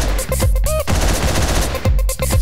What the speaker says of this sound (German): nehmen wir das MG.